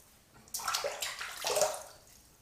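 Water splashed onto a face from a basin while preparing for a wet shave, two soft splashing bursts with trickling, close and fairly quiet, no talking.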